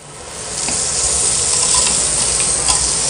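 Mushrooms and vegetables with thyme, sugar and salt fry in a pan, giving a steady close sizzle with faint stirring scrapes throughout.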